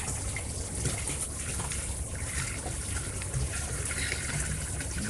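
A gallon of vinegar is poured into a container, producing a steady, continuous splashing gush with a hissy liquid rush throughout, close and without talk.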